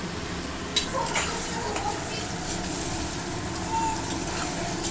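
Capsicum sizzles in a hot pan for egg and prawn fried rice, a dense continuous frying hiss with an occasional utensil tap, heard close and fairly even throughout.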